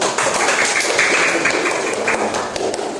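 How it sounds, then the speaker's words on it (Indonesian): A classroom group in an Indonesian Islamic education teacher-training session claps for fellow students, a dense, steady patter of many hands that fills the whole stretch at an even level. "Tepuk tangan untuk kelompok 1."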